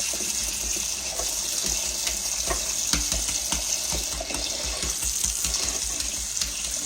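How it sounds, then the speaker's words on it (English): Cold tap water runs steadily over freshly boiled, cracked eggs in a kitchen sink, a continuous close splashing gush with light irregular clinks and taps underneath, no talking. "And that cold water running over them."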